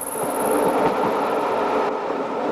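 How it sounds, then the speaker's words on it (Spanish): A passenger train rolls steadily along its rails with a continuous loud rumble and faint rhythmic wheel clatter, close and unbroken, with no voices. "Los raíles son tan propios del ferrocarril que no solo son su imagen, sino que le han dado un sonido característico"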